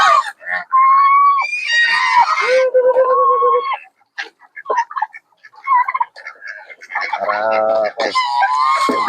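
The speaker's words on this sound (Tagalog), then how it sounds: "Pakainin natin yung mga alaga natin yung pato." Domestic ducks being fed give off loud, repeated quacking and honking calls in bursts, some high and some lower, close by and nearly continuous, with short quiet gaps between them.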